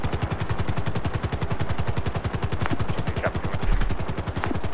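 A helicopter in a roleplay video game, its rotor beating in a steady, fast chop that stays loud and close throughout, with faint gunfire-like clicks in the background.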